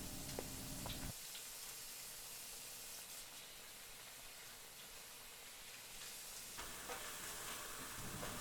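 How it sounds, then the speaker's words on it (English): Wine cooking off in a pan of spaghetti bolognese sauce, a dense continuous close sizzle with brief brighter spatters at the start and end, quiet, no voices. "that wine is cooking off"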